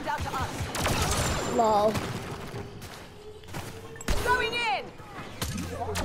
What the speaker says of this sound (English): Who shoots at me?